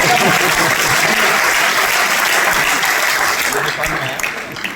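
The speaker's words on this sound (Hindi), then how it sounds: "एक बार इनके लिए तालियां बजाइए" Audience applause at a program in Gurgaon, loud and continuous clapping from a large crowd that holds steady and then begins to thin near the end.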